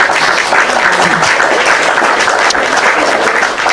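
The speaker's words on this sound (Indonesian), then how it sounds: "Tepuk tangan buat Nabi kita." An audience at a religious talk claps for Prophet Muhammad, producing loud, sustained, dense applause that holds at full strength throughout.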